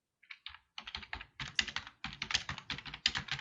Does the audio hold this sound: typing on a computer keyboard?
yes